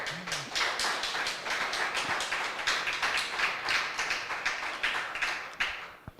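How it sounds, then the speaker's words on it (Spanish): A church congregation claps in praise during a service, a sustained round of rhythmic applause with individual claps audible, fading out toward the end. "¿Cuántos se le dan un fuerte aplauso al Señor?"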